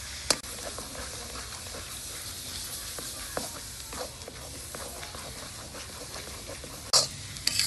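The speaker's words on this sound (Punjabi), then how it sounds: "2 ਕਿਲੋ ਗਾਜਰਾਂ ਤੇ ਅੱਧਾ ਕਿਲੋ ਖੋਆ ਮਿਕਸ ਕਰ ਲਾਂਗੇ ਫਿਰ ਭੁੰਨਾਂਗੇ" Grated carrots mixed with khoa are roasted and stirred in a pan for carrot barfi, a soft steady sizzle with scraping spoon strokes and occasional louder clinks against the pan.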